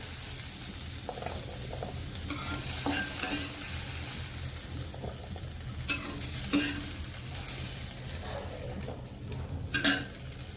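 Peas and carrots frying in a pan for a veg Kolhapuri sabji, a soft constant sizzle punctuated by spatula scrapes and light clinks against the pan, fairly quiet and close.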